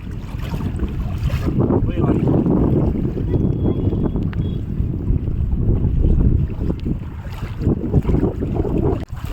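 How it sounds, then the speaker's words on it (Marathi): Strong wind roars steadily over a small boat on rough open sea at Satpati creek in light rain, a loud continuous rushing with water wash beneath and occasional gusty bumps against the microphone. "वारा पण खूप आहे"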